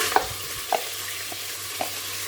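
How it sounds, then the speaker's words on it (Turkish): Chopped onion and garlic sauté in a pan with meat for a Turkish green bean stew, with a soft steady sizzle and a few distinct scrapes of a spoon stirring at intervals. "3 diş sarımsağı ilave edip kavuruyoruz"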